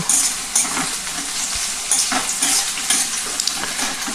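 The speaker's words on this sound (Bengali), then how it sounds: "কুচানো পেঁয়াজ দিয়ে আমি একটু হালকা বাদামি করে ভেজে নেব।" Chopped onions fry in hot oil for a Bengali Bombay duck dish, a steady close sizzle with occasional stirring scrapes and clinks of a utensil in the pan.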